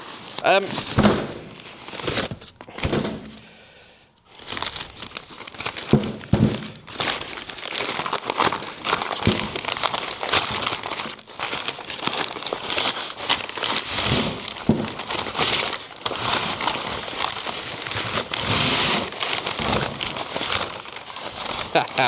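Crinkling and tearing of packaging as a parcel for a 117-year-old steam engine's hand-forged spring is opened and unwrapped, with rustling and crunching bursts that go on for a while, close by and under occasional talk.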